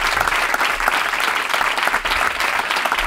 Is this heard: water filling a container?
no